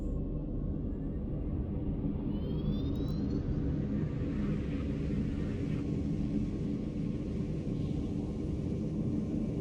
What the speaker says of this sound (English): I'll turn our afterburner on